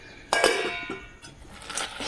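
Roasted peanuts tipped into melted jaggery in a pan for chikki, giving a sudden clattering clink of nuts and metal, then scraping and faint clinks fading under a low kitchen hum.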